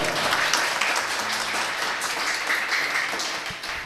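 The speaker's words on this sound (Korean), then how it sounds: "다시 한번 큰 박수를 좀 부탁드리겠습니다" Audience applause fills a hall during an election pledge ceremony for Suncheon mayoral candidates. It is steady and sustained throughout, with a faint tonal hum underneath.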